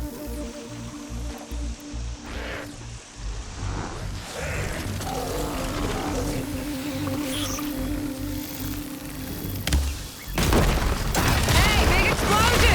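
A big explosion in Horizon Forbidden West: Burning Shores bursts out suddenly near the end as a loud, broad blast over a bed of rumbling, droning game sounds, with someone talking throughout.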